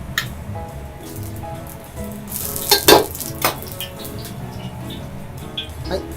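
Oil heating in a wok before chilies go in for Sichuan-style spicy beef noodles, giving a steady close sizzle with clinks and scraping and a louder burst of crackle midway, with faint background hum.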